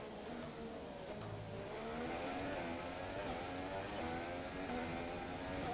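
An F1 race car engine in the video game F1 2017 at the Chinese Grand Prix screams continuously at high revs and climbs steadily in pitch as the car accelerates out of a corner.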